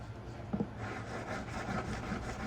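A hand file works a 14k white gold ring in steady back-and-forth strokes, a close, even rasping scrape with a few light clicks as the file catches the metal.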